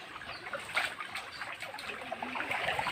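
A cold river flows steadily in rural countryside, its soft continuous trickle and babble filling the scene at a moderate, even level with no voices.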